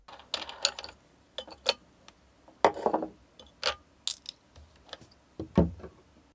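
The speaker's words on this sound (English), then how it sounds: "Also, remove the nut, the grinding disc, and the mounting flange on the other side." Small metallic clicks, clinks and taps as the nut, grinding disc and mounting flange are removed from a Makita brushless 18V cordless angle grinder, scattered sharp handling sounds with quiet gaps between them and no talking.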